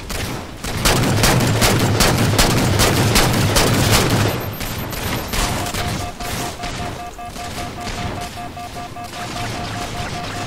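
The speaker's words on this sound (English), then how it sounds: "Oh shoot, this guy over here shooting at me." Gunfire in the video game Halo 4 during a Big Team Infinity Slayer match on the Ragnarok map, dense continuous automatic fire that is loud and close at first, then thins into scattered shots with a steady tone underneath.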